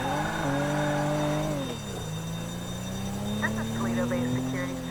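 A car in Grand Theft Auto V drives steadily, its engine tone rising and falling with a brief tire squeal, heard close and continuous while a voice talks over it.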